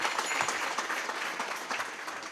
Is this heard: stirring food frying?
no